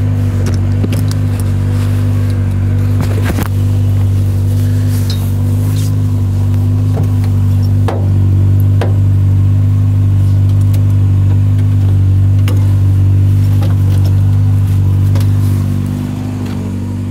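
A car engine idles loudly and close, likely a Renault 5 GTE or a Fiat 500 Giannini at a track day, a steady low rumble with small throttle blips and clicks, running alone without talk.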